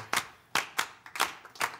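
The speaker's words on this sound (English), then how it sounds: "we're going to keep clapping this, and we're going to start earlier." Group hand clapping in a performance, sharp interlocking claps in an uneven repeating rhythm, close and clear with no voices.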